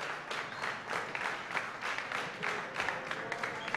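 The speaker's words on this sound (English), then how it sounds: "Give them a round of applause," Audience applause at a Crysis 2 gaming tournament final, a sustained burst of many hands clapping at moderate distance, steady for several seconds.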